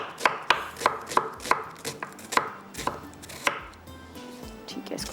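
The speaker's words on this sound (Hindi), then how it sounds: "इसको प्याज को मैं थोड़ा सा चॉप कर लेती हूँ।" Onion being chopped with a knife on a cutting board for a coconut prawn curry, a steady run of about a dozen crisp, close knocks, evenly spaced at first and then trailing off into softer, quieter cuts.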